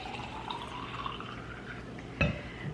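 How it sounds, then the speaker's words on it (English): Water pours into a straw-lid drinking bottle with a rising gurgling fill tone, ending in a brief clunk, quiet and close with no voices. "So I just fill this with water."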